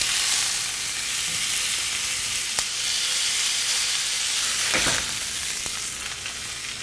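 Sous vide steaks searing in a pan over high heat, giving a steady, loud sizzle with a continuous hiss throughout and a couple of faint clicks.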